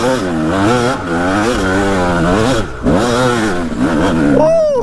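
A Yamaha YZ250 two-stroke dirt bike climbs a dry, rutted hill, its engine close and loud, revving and bogging in rising and falling waves with brief throttle chops.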